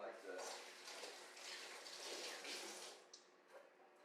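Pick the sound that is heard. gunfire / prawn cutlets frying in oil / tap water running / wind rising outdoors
tap water running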